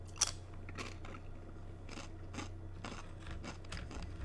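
A plain potato chip being eaten, with a sharp crunch at the start followed by repeated close, crisp chewing crunches over a steady low hum, with no talk.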